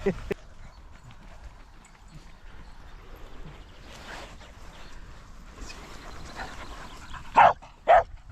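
A small dog, likely a border terrier, lets out two sharp, loud barks near the end of a quiet outdoor morning walk, after faint background rustling and footsteps.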